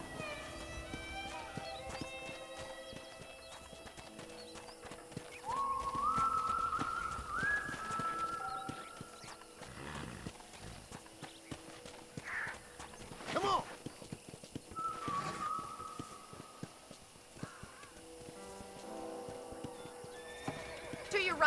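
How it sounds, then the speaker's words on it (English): Red Dead Redemption horse hooves clip-clopping steadily at a trot, mixed with a whinny, birdsong and soft background music, with a voice speaking over it. "let's see if you can still ride a horse"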